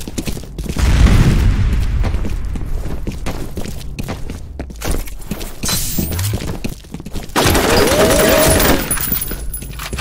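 A grenade blast and bursts of automatic gunfire in the online shooter F.E.A.R. Combat, loud and close, with shattering debris, rapid fusillades and scattered footsteps, faint game voices in between.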